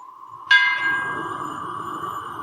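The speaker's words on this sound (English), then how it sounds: "The bells of St. Mary's broke the silence." Church bell struck once for midnight in a radio drama, a sharp clang followed by a long ringing hum that slowly fades, alone with no voices.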